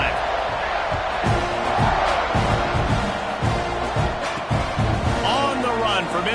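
Football stadium crowd before a kickoff in a Missouri vs Texas A&M game, a loud sustained roar and cheering throughout, with a commentator talking over it.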